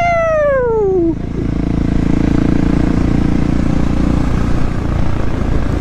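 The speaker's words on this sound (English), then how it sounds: "Little boy's like, oh my god, look at the motorcycle." A motorcycle is heard near at first with a falling engine whine that drops quickly in pitch, then settles into a loud, steady rumbling drone that continues to the end.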